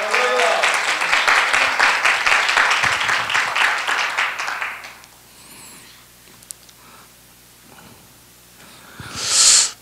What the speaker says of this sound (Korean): 우리 주인 되신 주님께 박수 올려드리십시오.